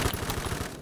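Rapid K2 rifle fire in the shooter game Phantom Forces, a steady burst of close, punchy shots in quick succession lasting under a second.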